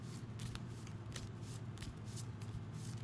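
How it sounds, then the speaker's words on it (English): Playing cards being shuffled close by, a steady papery riffling and flicking over a low background hum, with no talking. "You can hear me shuffle the cards."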